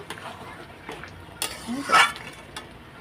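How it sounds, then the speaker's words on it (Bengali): Vegetable curry with potato, pumpkin, pointed gourd and beans being stirred in a pan after sugar goes in, a few close scrapes and clinks of a utensil over a faint simmer. "এখন একটু চিনি দিয়ে দিয়ে দিলাম দিয়ে এখন নাড়াচাড়া দিয়ে নেব"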